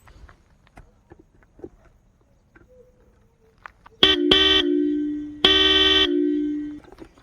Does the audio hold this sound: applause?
no